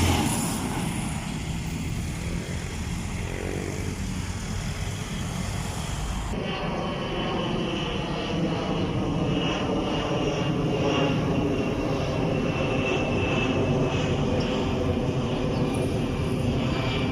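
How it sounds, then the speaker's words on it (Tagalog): Airplanes flying over the Mall of Asia area in Manila at dawn, a steady loud engine roar that persists throughout and shifts slightly in tone partway through, with no talk. "makikita po natin dito yung mga aeroplanong lumilipad dito sa MOA"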